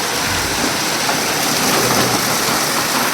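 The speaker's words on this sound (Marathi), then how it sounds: "आता वारा बघ ती कसला पाऊस आहे बापरे" Heavy rain pours down steadily with wind, water running along the road in a continuous loud wash, no voices.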